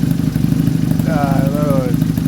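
A Honda Superdream motorcycle idles steadily nearby, its exhaust baffled with fiberglass packing in place of the removed DB killers, giving a muffled, slightly choked drone; a voice briefly talks over the engine.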